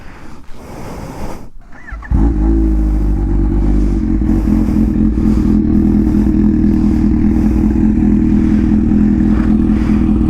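A 2019 Ninja H2 Carbon motorcycle with an aftermarket Vandemon exhaust cranks briefly, then fires up and settles into a loud, steady, throaty idle from a nearby exhaust.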